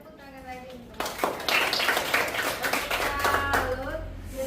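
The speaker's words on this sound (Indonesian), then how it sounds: "Tepuk tangan lagi." A group bursts into clapping after a voice, steady scattered applause from several people lasting a few seconds, with talking underneath.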